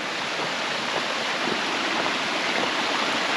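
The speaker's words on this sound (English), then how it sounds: "Let's check out how this little ravine stream's doing." A small stream in a ravine in the Sunol Wilderness flows in a steady, continuous rush of water, close and fairly loud, with no voices.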